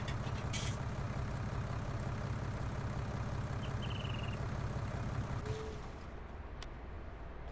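A tractor engine idles in Farming Simulator 19, a low continuous diesel rumble that carries steadily throughout, dropping slightly in level near the end, with a brief high beep partway through.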